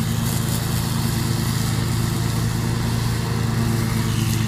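A lawn mower cuts a large lawn, its engine droning steadily and loudly up close with a constant low hum and faint wind noise.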